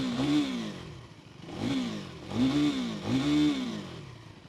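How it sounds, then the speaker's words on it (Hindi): A KTM Duke 390 motorcycle in track mode revs four times in quick succession, each throttle blip rising and falling with a rasping exhaust note, fairly close and with no talk. "उस मोड में चेंज करके देखते हैं कि एग्जॉस्ट नोट में कुछ चेंज आता है क्या"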